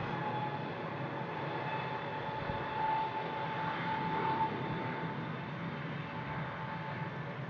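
A new engine option Airbus airliner departs from Brussels Airport as a steady, fairly quiet engine roar, with a broadband wash and a faint whine that swells slightly midway and holds constant throughout, no voices.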